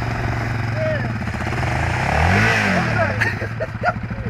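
A Yamaha Raptor 700R quad engine in mud revs up and down loudly nearby, the engine pitch rising and falling while people shout over it.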